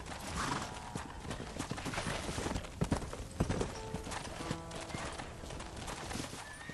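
Horse hoofbeats in the Western video game Red Dead Redemption, a rhythmic clip-clop of a trotting horse on hard ground with occasional snorts and a brief whinny, close and continuous.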